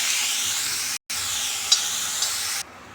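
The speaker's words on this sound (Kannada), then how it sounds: "ಈರುಳ್ಳಿ ಹಾಕೋಣ." Onion added to hot oil in a pan with mustard seeds gives a close, bright, continuous sizzle, with a couple of faint clicks from stirring and a brief gap partway through.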